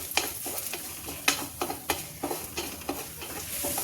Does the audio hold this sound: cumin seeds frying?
yes